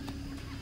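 A brief clucking bird call from the game Shadow of the Tomb Raider, a single short burst over a steady low ambient hum.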